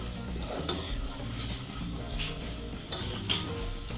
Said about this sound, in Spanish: Movemos. Que no se queme.